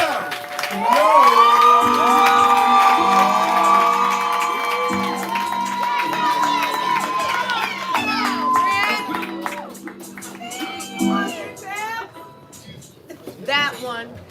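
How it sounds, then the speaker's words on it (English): Crowd at a Houston poetry slam cheering, whooping and shouting loudly while clapping, sustained energetic noise that gradually eases off toward the end, with voices mixed in throughout. "We're clapping. We're building energy."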